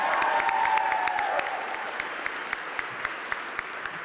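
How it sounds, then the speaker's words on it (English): An audience applauds legislators at a clean energy bill signing in Detroit, steady clapping with some cheering at first, thinning toward the end as a few distinct claps remain. "we should clap for them"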